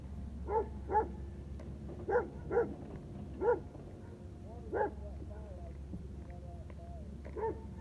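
Four dogs bark in separate sharp bursts, often in pairs, at a moderate distance over a low background hum, with gaps of quiet between volleys.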